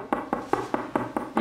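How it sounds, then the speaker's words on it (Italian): A hand knocks on a door or wooden surface indoors, seven evenly spaced close, firm raps in quick succession. "Cavolo è che sta bussando?"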